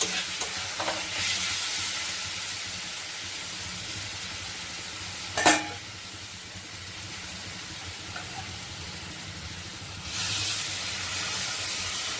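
Potatoes fried with spices in a pan for Bengali rui fish curry, giving a steady close sizzle with soft scraping stirs, one sharp clatter midway and a louder burst of frying near the end.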